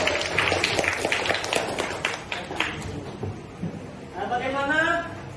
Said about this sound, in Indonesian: Tepuk tangan untuk Zapa.